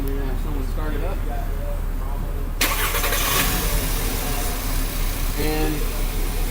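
A car engine cranks and catches partway through, bursting into a loud start and settling into a steady idle during an engine vacuum test, with a person talking before and after.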